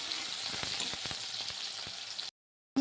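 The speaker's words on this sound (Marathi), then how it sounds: "याला आता छान असं फ्राय करून घेऊया आपण." Chopped tomatoes frying in a pan for a spinach dish, giving a steady moderate sizzle with light crackles and stirring taps for about two seconds before cutting to silence.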